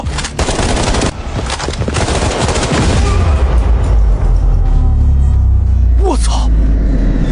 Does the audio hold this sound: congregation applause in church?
no